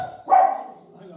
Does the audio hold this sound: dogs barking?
yes